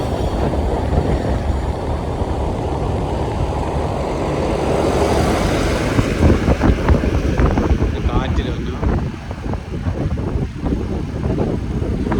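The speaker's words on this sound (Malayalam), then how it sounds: "നല്ല കാറ്റുണ്ടല്ലേ അവിടെ" Strong wind buffets the microphone with a continuous loud roar along Ponnani Karma Road, while voices talk over it.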